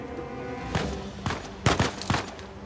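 A firefight in Uncharted 4 on the hardest difficulty, with several separate sharp gunshots, some in quick pairs, ringing out over a low background of battle noise.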